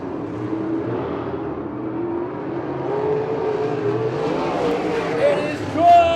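Open 360/410 sprint cars race around the Victorville Raceway Park dirt track during the Turkey Classic, engines droning and revving at a distance, rising near the end. An announcer talks over the noise.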